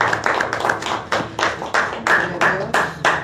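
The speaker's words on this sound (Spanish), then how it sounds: "Yo quiero darle aplauso a mi Dios." Rhythmic hand clapping during a Spanish-language church worship service, sharp claps in a quick steady beat with regular accents, fairly close and continuous for a few seconds.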